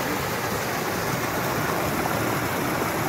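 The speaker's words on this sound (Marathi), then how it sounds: "मस्त पाणी वाहून राहिलं आहे" Water spills over a dam near Amravati as rain begins, making a steady, even rush of flowing water that stays at a constant level without any voices.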